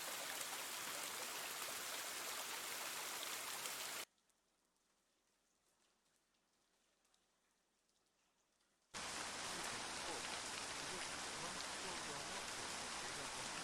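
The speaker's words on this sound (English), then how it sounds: "I woke up to the sound of the rain hitting the roof." Steady hiss of rain falling in a video game, loud and even, cutting to near silence for several seconds before resuming just as dense.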